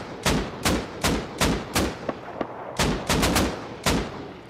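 Bursts of automatic rifle fire in the console version of the video game Rust, loud and close, a rapid run of about a dozen shots sprayed in uneven clusters with brief gaps, no talking.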